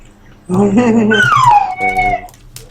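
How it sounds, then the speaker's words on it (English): A dog howls and whimpers close up, a single rising-and-falling drawn-out wail lasting about two seconds, loud and alone, indoors during a live stream. "Oh, that noise. Excuse the dog."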